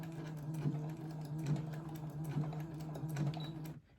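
A sewing machine stitches crochet granny squares together, giving off a steady, close mechanical whir with a faint regular ticking of the needle, then stopping at the end.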